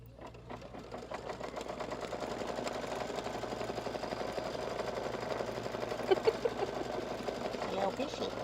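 Embroidery sewing machine stitching out a satin stitch design, a steady close whirring hum with rapid needle ticking throughout, moderately loud, with a few sharper clicks near the end.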